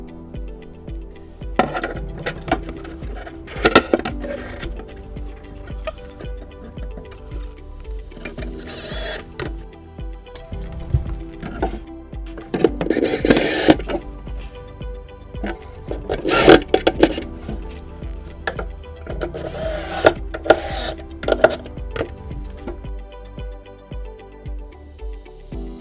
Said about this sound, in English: we just take our drill or our screwdriver, we line up those holes using the smallest brass screws that come with it,